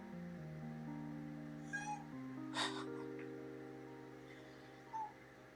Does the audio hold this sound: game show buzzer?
no